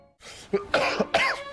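A person coughs several times in a quick cluster, close and harsh, after a brief moment of quiet.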